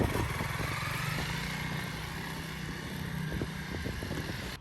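A Honda CRF300L Rally motorcycle hums low and steady while riding and shifting down into first gear, its engine fairly faint beneath wind rush on the microphone.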